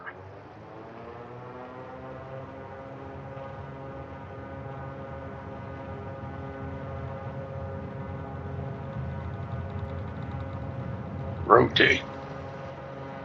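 Twin engines of a Beechcraft Baron run up to full power on the takeoff roll, a steady droning hum with layered harmonics that builds gradually and holds, with a brief spoken call near the end.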